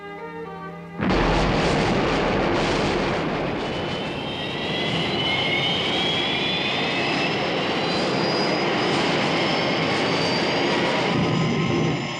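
A loud, roaring aircraft engine sound effect for the Thunderbird 1 craft bursts in after a quiet start and sustains a dense, steady rumble with a rising whine throughout.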